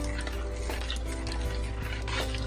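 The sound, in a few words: lentil soup cooking in a pot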